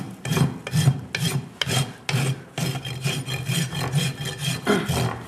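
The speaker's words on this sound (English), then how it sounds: "I hold the nose of the rasp in my hand and pull it down." A rasp files a horse's hind hoof during trimming in repeated rough strokes, a close, rhythmic scraping with short pauses between pulls, and no talking.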